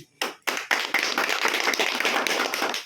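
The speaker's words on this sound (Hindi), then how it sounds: "एक बार के सम्मान में जोरदार तालियां हो जाए।" Audience applause at a shop opening, starting with a few sharp separate claps before swelling into a dense, steady round of clapping from a gathered crowd nearby.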